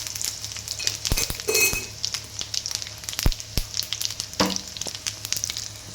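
Tempering seeds and crushed garlic sizzle in hot oil for a tomato pachadi. The crackle is close and continuous, with a few sharp pops and light clinks of utensils on the pan.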